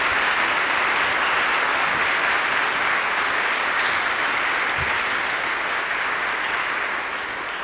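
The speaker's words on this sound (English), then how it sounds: "round of applause." An audience fills a church hall with sustained applause for traveling presenters at an evening event, a thick, even wash of clapping that holds steady and then begins to ease slightly toward the end.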